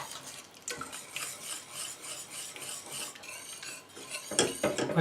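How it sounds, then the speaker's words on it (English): A spoon stirs lasagne sauce in a pot over low heat with milk added, making continuous close scraping and rubbing against the pot, with a few louder knocks near the end. "Turn the heat back on, low heat, and you want to stir this"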